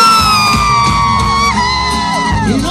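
A loud, drawn-out Mexican grito shout rising and falling over loud music with a crowd behind it at a festive celebration.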